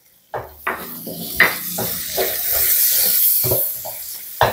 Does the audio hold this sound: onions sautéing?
yes